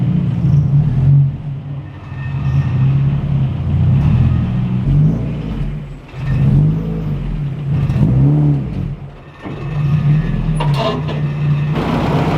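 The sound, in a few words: big turbo B-series Honda Civic EG revving on a dyno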